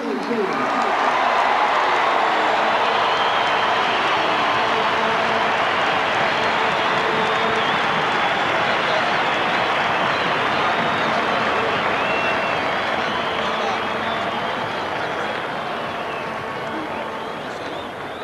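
Large crowd at the 1993 Essendon vs Richmond Fosters Cup Grand Final applauding the Essendon captain and coach. The clapping and cheering are loud, dense and continuous, fading a little toward the end, with a voice over the public address at times.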